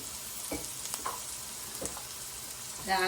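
Vegetables sautéing in oil in a pan for Sri Lankan kottu roti, a steady close sizzle with a few soft stirring scrapes and a brief louder clatter at the end, no talking.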